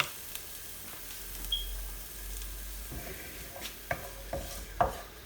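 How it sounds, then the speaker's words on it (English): Sliced garlic sizzles in hot oil for a Chinese chicken and prawn stir fry, a soft, steady, fairly quiet hiss broken by occasional scrapes and knocks of stirring. "now we're going to add the garlic, so you can hear it sizzle"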